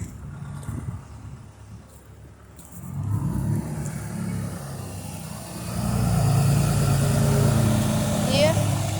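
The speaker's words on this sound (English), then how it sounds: "Yeah, pretty loud truck. It's a diesel." Loud diesel truck pulling up nearby, its low engine rumble building and swelling toward the end while people talk over it outdoors.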